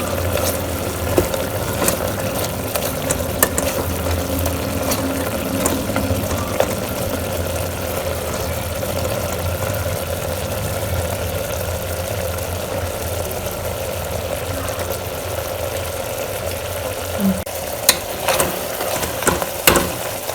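Chicken with lemon juice sizzles steadily in a pan, a continuous close frying crackle with occasional clicks and stirring scrapes, no talk over it.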